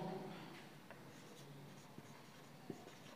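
Chalk or marker strokes scratch across a board during a vocabulary lesson, in a few brief quiet strokes and taps, with faint room noise and no talking.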